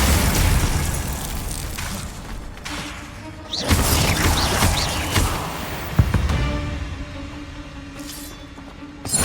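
Bombarda spell explosions in Hogwarts Legacy, several loud booming blasts with sharp crashing onsets scattered over a rumbling battle background.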